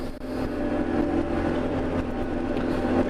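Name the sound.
JCB Fastrac 4220 tractor engine revving while ploughing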